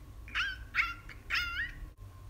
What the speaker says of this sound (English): With a woof woof woof